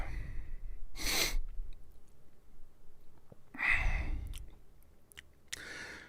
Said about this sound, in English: That sneeze hurt, too.